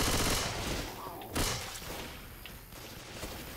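Rapid bursts of gunfire crackle through a zombie shooter game, a dense volley at the start followed by a sharp louder shot and a few fainter pops, all harsh and close with a muffled, noisy texture.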